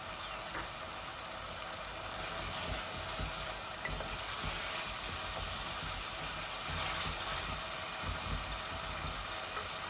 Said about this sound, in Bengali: এখন আমার মশলাগুলা ভাজা হয়ে গেছে।